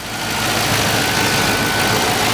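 A 2006 Pontiac GTO with the 6.0L LS2 V8 idles close by, a steady, rumbling engine drone with no talk over it.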